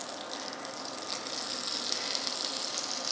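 Leeks frying in oil in a pan for a veggie frittata give a steady, bright sizzle and hiss. It holds at an even level, close by and alone.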